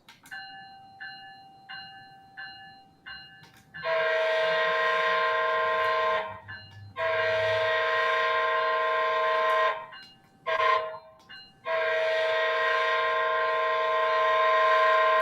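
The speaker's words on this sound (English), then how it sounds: "Love that it's got the correct Canadian horn on there." Bachmann model train sound decoder sounding a multi-chime Canadian horn: short chime pulses first, then several long loud horn blasts separated by brief gaps, with a faint low rumble underneath.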